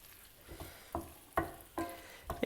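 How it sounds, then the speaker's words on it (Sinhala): Cooked pasta tipped into a pan of zucchini and stirred, giving a few separate scraping, clattering stirs spaced about half a second apart over a faint pan hiss, with no talking. "දැන් අපි මේලට ටිකක් විනාඩි කිහිපයක් අඩුවෙන් තඹගත්ත පාස්තා ටික මේකට මේ වගේ එකතු කර ගන්නවා"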